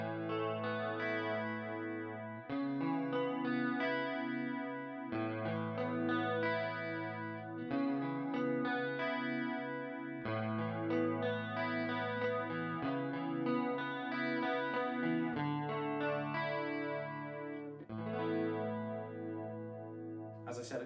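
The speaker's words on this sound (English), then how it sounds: "now you can hear that rotary sound" An electric guitar runs through a Tech 21 FLY Rig RK5 rotary effect, strumming steady chords with a swirling, warbling tone and distortion, loud and close with no voice heard.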